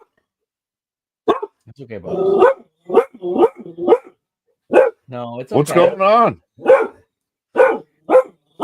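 A pet dog barks in sharp, repeated bursts indoors, close and loud, interleaved with someone talking soothingly to calm it.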